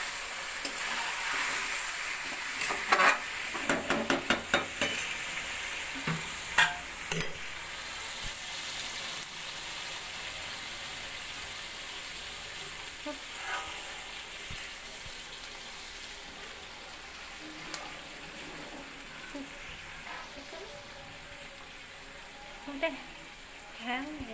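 Chicken frying with roasted spices in a pan, a soft sizzle with intermittent stirring and scraping clatters, fairly quiet and close, with occasional speech.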